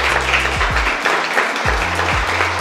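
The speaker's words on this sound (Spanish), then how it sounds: "un fuerte aplauso por favor a Andri Palacio por este gran evento" Applause from an audience at a women's conference in Atlanta, a dense steady clatter of clapping with a low droning hum running underneath throughout.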